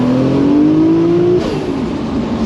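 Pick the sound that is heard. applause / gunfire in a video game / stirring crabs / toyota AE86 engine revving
toyota AE86 engine revving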